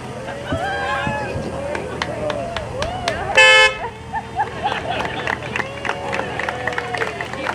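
Car horns honk repeatedly in short toots over a lively outdoor crowd and chatter, with one long, loud blare partway through, at a Vitalant Volkswagen grand prize ceremony.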